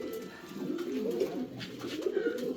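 Golden shirting pigeons sitting on eggs at a fancy pigeon farm coo repeatedly in low, rolling calls that overlap close by, with a steady murmur of cooing throughout.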